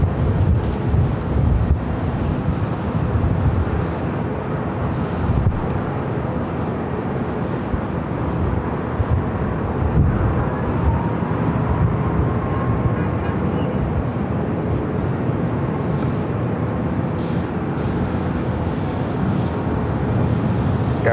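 An airliner takes off from runway 24 left at LAX, producing a steady, broad roar that holds for the whole stretch and sounds somewhat distant and wind-buffeted, with no voices.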